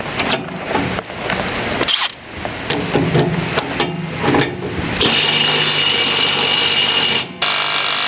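A Milwaukee power tool fitted with a half-inch socket strains to loosen a brush cutter blade: loud, close, choppy mechanical bursts with brief pauses, then a steady harsh whir from the midpoint before cutting off briefly near the end.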